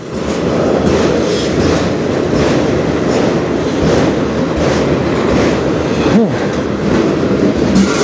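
A train rolls past on the Strathroy Sub, loud and close, with steady rumbling and rhythmic clickety-clack of wheels over rail joints and a brief squeal near the end.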